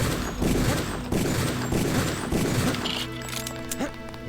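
Gunfire in the video game Deus Ex: rapid bursts of shots crackle repeatedly over several seconds, loud and close, thinning out toward the end as the weapon runs dry.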